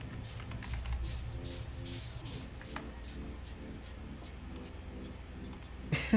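Rapid computer keyboard typing and mouse clicking during Elden Ring play, a dense stream of close, crisp key taps with a few louder clicks near the end.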